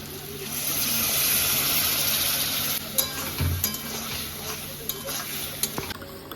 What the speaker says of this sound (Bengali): এবার আমি ভালো করে কষিয়ে নেব এবার আমি আদা রসুনের যে পেস্ট করেছিলাম সেটা দিয়ে দেবো